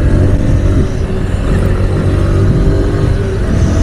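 Motorcycle pulling hard in fourth gear after a service, the engine roar steady and loud up close with heavy wind rush over it, no talking.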